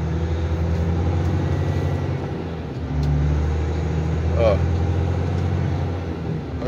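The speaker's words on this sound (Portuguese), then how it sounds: "É, é sentindo o motor do caminhão." A loaded Volvo FH truck with automatic gearbox pulling away, its diesel engine droning low and steady with a slight surge midway, heard from the cab.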